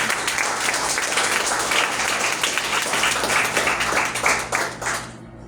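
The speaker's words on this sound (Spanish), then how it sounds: "Vamos a brindarle un fuerte aplauso al Señor." A church congregation claps loudly and steadily, a dense wash of many hands that carries on evenly before thinning out and fading abruptly at the end.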